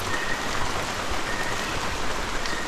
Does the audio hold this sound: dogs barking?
no